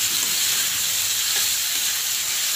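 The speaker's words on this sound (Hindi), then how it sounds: "दो बड़े प्याज थे, इसको हम अच्छे से ब्राउन होने तक भूनते हैं।" Two large finely chopped onions fry on high flame in a pan for a restaurant-style matar mushroom curry, giving a steady loud hiss and sizzle throughout with faint stirring and no talking.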